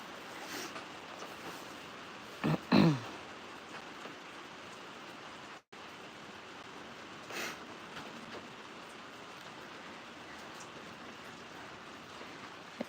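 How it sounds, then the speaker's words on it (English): Steady rain falls on a misty ocean day, a soft continuous hiss that stays faint throughout, with a couple of brief louder knocks near the start. "I think this is the first day it's been quite this misty and rainy."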